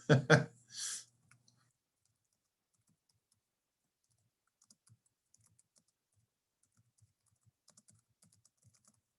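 Sparse, quiet keyboard typing during a live computer science lecture, scattered soft keystrokes after a brief louder burst at the start, with long near-silent gaps between clicks.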